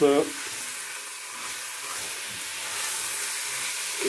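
Minced meat sautéing in a pan for a Bolognese sauce, a steady soft sizzle with light stirring scrapes, fairly quiet and continuous with a brief clatter at the start and end.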